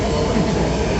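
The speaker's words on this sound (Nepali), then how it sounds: "मेट्रो आइसकेको अवस्था।" A metro train arriving at a station gives a loud, steady rumbling roar of rolling wheels and carriages for about a second.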